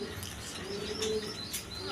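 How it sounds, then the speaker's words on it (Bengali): Big-sized Maltese pigeons coo in low, rolling calls mixed with a few brief chirps, close and fairly quiet over a busy background. "এই পেয়ারটা হলো মাল্টেস কবুতর একদম বিগ সাইজের"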